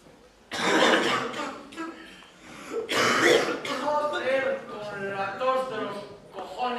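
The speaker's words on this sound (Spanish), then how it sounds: "el ruido de tu maldita tos, que no nos deja dormir ni un rato" A person coughs and clears their throat harshly a few times, close up, mixed with strained vocal sounds in a staged dramatic scene performed in Spanish at a Marist school in Murcia.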